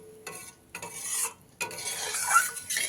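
Fish curry semi-gravy for parshe macher tel jhal gets stirred in a pan, with several bursts of scraping and sloshing between short pauses under a faint sizzle, close and with no voices.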